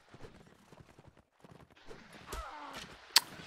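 Horse hooves clip-clop rapidly during a cavalry clash in a medieval strategy video game battle, a busy patter of steps, followed by a horse whinny and a sharp hit sound.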